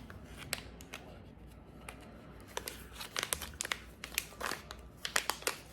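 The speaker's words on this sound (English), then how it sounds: "Go ahead and rip this open, see?" Plastic packaging holding two lightning cables being ripped and pulled open, a close, quiet series of sharp crinkling tears and rustles that grow busier toward the end.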